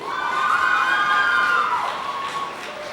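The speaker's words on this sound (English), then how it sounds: "The cheering crowd." Outdoor crowd at a high school graduation cheering and shouting for a named graduate, a sustained roar with high whoops that peaks and then eases off.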